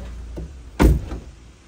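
A car door swung shut with one solid thud, followed by a lighter knock as it fails to latch and pops back open on its own.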